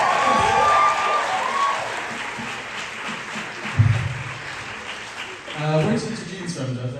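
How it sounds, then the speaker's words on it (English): Applause and a little cheering from a small group on a talk show, meant for the camera crew, with a brief burst of clapping at the start. Voices chatter over it and continue talking afterward. "Applause for the camera"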